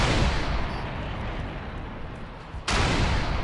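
A heavy rocket blast fired at hellbugs in Defiance 2050, dense roaring boom filling the scene, then a sudden second loud burst near the end, no talking.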